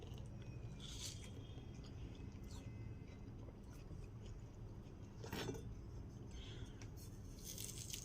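Someone bites into yellow watermelon, making faint crunchy, wet bites and chewing close to the mic over a quiet hiss, with a sharper crunch midway.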